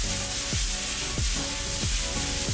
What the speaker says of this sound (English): Once you get a nice sizzle on